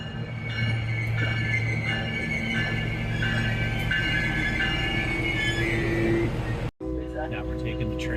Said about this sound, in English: Now we're taking the train south through Petaluma and heading towards Marin County